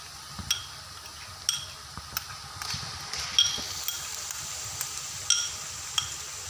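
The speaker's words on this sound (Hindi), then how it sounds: "इसको हल्का सा फ्राई करेंगे।" Onions with garlic-ginger paste sizzle steadily in a pan for a chicken karahi, with regular clinks and scrapes of a spoon stirring every second or so, close and fairly loud, no talk.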